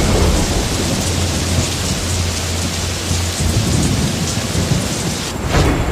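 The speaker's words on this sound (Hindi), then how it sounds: "फिर लगातार 15 दिनों तक बारिश होती रही।" Heavy rain pours down steadily with a low rumble of thunder rolling beneath it, loud and close throughout.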